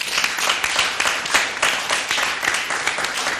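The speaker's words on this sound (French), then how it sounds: "Est-ce qu'on peut applaudir pour elle?" Audience applause at a French-language talk event, with dense, steady clapping from a crowd that continues throughout without a break.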